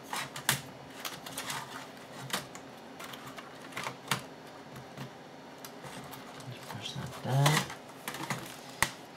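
The keyboard of a Dell Inspiron 6000 laptop is clipped and pressed into place, making a series of close, sharp plastic clicks and taps scattered unevenly, with a louder snap near the end.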